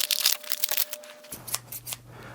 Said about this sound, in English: let's open up this pair of scissors and see how these things are.